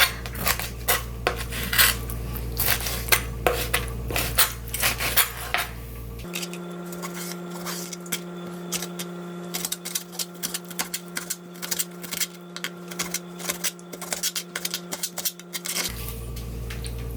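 One squid being cleaned and cut in a home kitchen for a mild squid soup: clattering knife and board taps and handling clicks over a steady low hum, with no talking.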